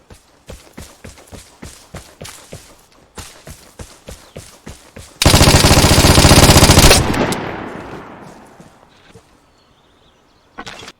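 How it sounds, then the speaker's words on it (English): Vigor video game gunfight: a steady series of footstep-like thumps, then a loud sustained burst of M249 machine gun fire for about two seconds, followed by a fading echoing tail. "So, M249, he fired first, but I win the gunfight."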